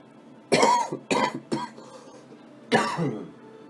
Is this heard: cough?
yes